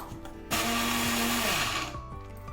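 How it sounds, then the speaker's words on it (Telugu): A mixer grinder grinding ridge gourd pieces with coriander whirs loudly for about a second and a half, then spins down, with quieter kitchen sounds before and after. "ఇప్పుడు మిక్సీ పట్టుకుందాం"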